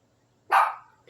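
A dog in a park full of cats gives one sharp, close bark after a moment of near silence, followed by the start of another bark.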